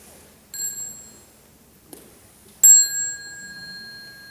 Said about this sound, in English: Maybe a monk can teach you how to invite the bell.